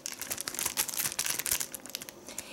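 Plastic packet of CELESTA rubber gloves being handled up close, crisp irregular crinkling and rustling in quick bursts, fairly faint, with no talking.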